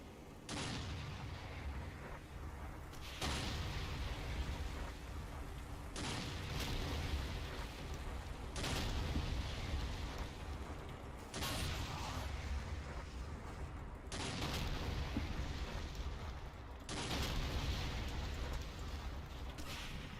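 A knee mortar fires HEAT rounds in the Forgotten Hope game, with repeated heavy booms arriving every two to three seconds, each leaving a rumbling tail of distant battle noise between them.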